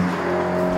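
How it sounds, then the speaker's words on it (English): Exhaust note of a 2022 Mercedes-AMG SL with a 4-liter V8 bi-turbo engine under acceleration, a close, loud, steady engine drone with a strong tonal hum that holds throughout without talk. "as you're accelerating is the really great exhaust note"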